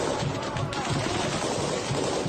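Rapid gunfire from Chechen special forces firing on a building during urban combat in Ukraine, with a Russian tank nearby, a dense continuous barrage of loud, overlapping shots filling the whole stretch.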